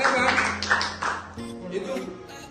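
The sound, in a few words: group applause clapping in classroom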